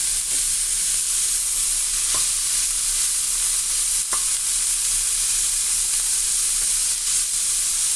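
Carrot and cabbage stir-fry in a pan for bihon noodles, a steady loud sizzle with constant frying hiss and a few faint utensil scrapes throughout, no talking.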